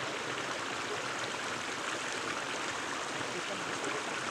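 Boiling water poured from a camp stove pot into a backpacking meal pouch, a steady continuous splashing hiss lasting several seconds with no break.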